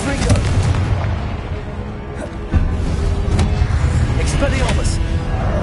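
A Confringo fire spell blasting in Hogwarts Legacy: loud, dense booming explosions over continuous game noise, with a sharp new impact midway.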